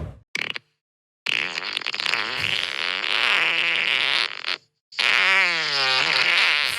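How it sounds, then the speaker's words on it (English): Recorded fart noises played back from a phone video sent by a 40-year-old man: several drawn-out, buzzing, wavering farts separated by brief silences, loud and close. "their friend had been sent the fart video"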